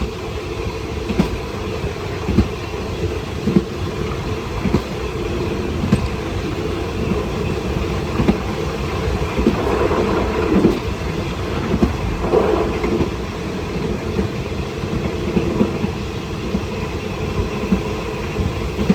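Ubon rapid train 135 rolling through a station on the Thai rail line, a steady loud rumble of wheels on track with rhythmic clicks and clatter throughout, sustained close to the listener.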